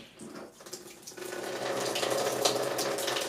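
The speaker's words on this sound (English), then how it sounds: "You can see now the water drains into the tub as opposed to into the wall there" Water drains from a bled-out plumbing valve into a bathtub, a steady splashing, rushing flow that starts softly and swells after about a second into a continuous close stream with no speech.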